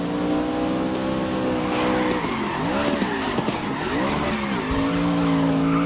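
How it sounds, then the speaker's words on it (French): Truck tires skid and squeal loudly in the racing video game Grid, during a Pro Truck Challenge race, with a continuous sliding screech and a roaring engine whose pitch rises and falls across the whole stretch. "Ça dérape à fond."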